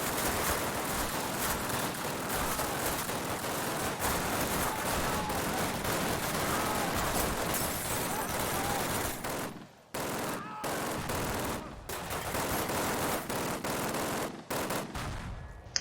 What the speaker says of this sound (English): the MG42 is a beast in this game